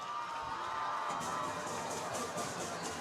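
Fans at a high school football game between LaFayette and Trion cheer in the stadium, a broad, fairly faint crowd roar with scattered shouts that carries steadily throughout and heard from a distance.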